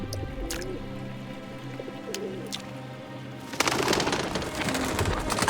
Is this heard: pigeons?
yes